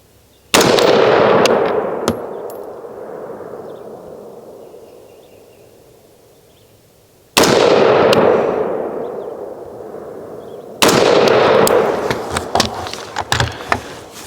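Rifle shots from a Savage MSR-15 fitted with a Meprolight Foresight sight, three loud sharp cracks outdoors, each with a long decaying echo, the last followed by a quick cluster of smaller impact clatters.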